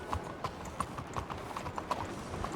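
Horse hooves clip-clop at a steady walking rhythm in Red Dead Redemption 2, each strike distinct and fairly close, repeating about every third of a second over a soft, continuous background.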